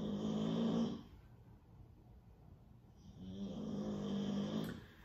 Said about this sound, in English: Loki snoring like a grizzly bear